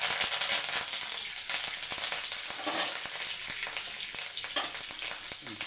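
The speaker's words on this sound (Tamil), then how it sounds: "இப்போ சீரகமும் கடுகு பொறிஞ்சோன்னே கருவேப்பிலை போட்டுக்கலாம்" Cumin and mustard seeds spluttering in hot oil, then curry leaves dropped in: a continuous close sizzle sprinkled with many sharp, irregular pops and crackles, fairly loud and with no voices over it.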